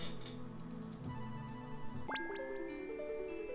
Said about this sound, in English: Rings doorbell.